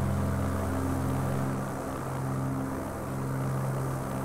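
A Strike Commander propeller airplane drones in the X-Plane flight simulator game, a loud, steady engine hum with strong low tones and a broad whirring wash that swells slightly and holds constant throughout, with no voices.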